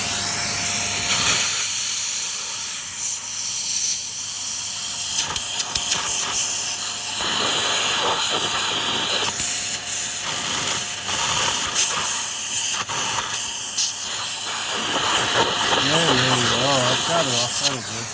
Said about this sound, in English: let's vac it before we clean it, just to see what that vac hose does.